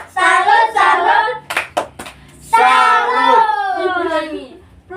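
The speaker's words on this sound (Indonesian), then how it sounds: "kasih tepuk salut dulu untuk Gien" A classroom of children clap together in a short rhythmic salute for a classmate named Gien, sharp bursts of claps between chanted group voices, close and loud.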